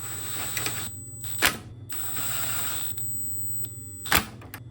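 A radiator part on a 2009-2013 Toyota Corolla Matrix snaps into place with two sharp plastic clicks a few seconds apart over a steady low background hum.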